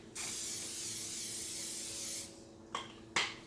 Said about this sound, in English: I probably should go ahead and spray the bottom of it